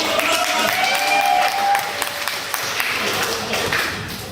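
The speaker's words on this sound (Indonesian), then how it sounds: "Tepuk tangan dulu untuk penyemangat." A group at a farewell fishing outing claps for encouragement, a lively round of applause with mixed voices and chatter over it, gradually easing off.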